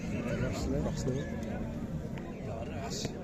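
Young male horses at a livestock market in Osh neigh loudly and close by, the whinny rising over a busy crowd, with people talking and bargaining throughout.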